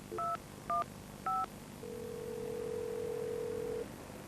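A cell phone keypad beeps with three short dialing tones in quick succession, followed by a longer steady tone, close and clear with no talk.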